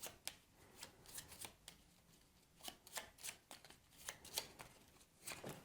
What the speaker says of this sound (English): We'll give them a shuffle.